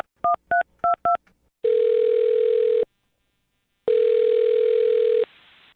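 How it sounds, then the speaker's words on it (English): Telephone dialing a number: four quick touch-tone beeps in a rapid burst, then two long steady ringback tones separated by a pause, close and clear with no talk. "I'm dialing her phone number right now."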